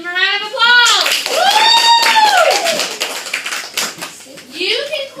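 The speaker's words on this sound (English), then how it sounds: "Give them a round of applause." Clapping and cheering from a group, with excited voices whooping over the applause.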